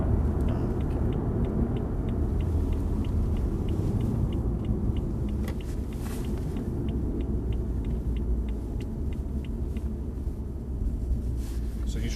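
A BMW driven on the Thruxton race track, a steady loud engine and road rumble filling the whole stretch with wind buffeting, with faint regular ticking over the top.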